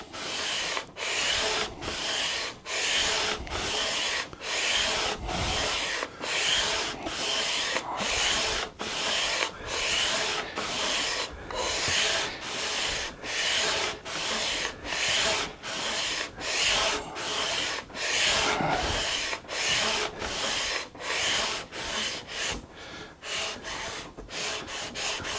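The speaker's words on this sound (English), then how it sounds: "This is just shaping, just getting the radius in and smoothing the fretboard to some extent." A wooden guitar fretboard being sanded to a radius with long, steady, rhythmic back-and-forth strokes, loud and close, continuing without pause and with no talking.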